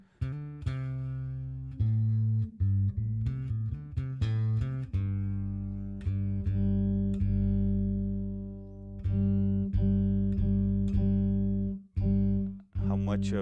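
An Anagram synthesizer plays a sustained tone with a sub octave underneath, deep and buzzy, moving through a series of held notes and short stabs, close and prominent.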